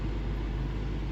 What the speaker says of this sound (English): you can hear it right now blowing as hard as it possibly can